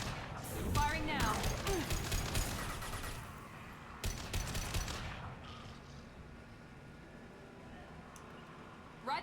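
Bursts of gunfire in Mass Effect 2 combat, a cluster of sharp shots early and another volley near the middle, fading into quieter battle ambience with voices talking underneath.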